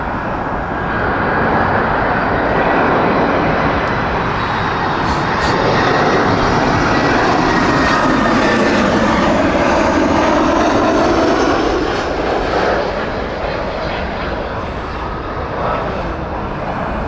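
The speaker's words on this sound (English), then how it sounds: "There is the Airbus A318." Engines of an Airbus A318 airliner at Heathrow Airport, a loud, sustained roar with a broad rumble that swells and holds for several seconds before easing slightly, heard alone.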